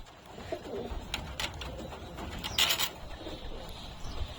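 Pigeons at a home loft, bathing in the sun, give soft low cooing under steady background noise, with a few brief sharper sounds in the middle.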